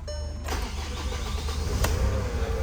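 Worn car engine with high mileage, leaking antifreeze, cranking with difficulty, then catching and settling into a rough, uneven idle, heard close with a sharp click partway through.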